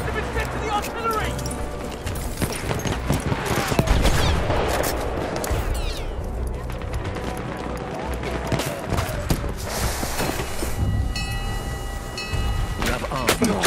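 A dense wall of battle noise from Battlefield 1: continuous gunfire and artillery blasts rumble and crack without pause, with shouted speech mixed in throughout the chaotic infantry fight.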